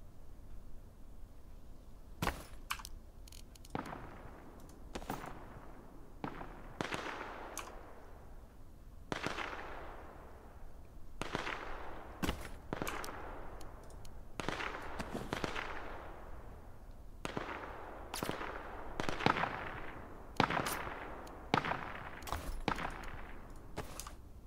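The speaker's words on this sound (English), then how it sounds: "Somebody is already shooting us." Gunfire aimed at players in the online shooter Duckside cracks out in scattered, irregular single shots and short clusters, each sharp report trailing off in a ringing decay at a moderate distance.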